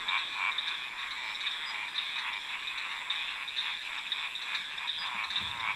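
Chorus of frogs croaking at night, a dense, continuous pulsing trill layered over itself, steady and fairly close, with no voices.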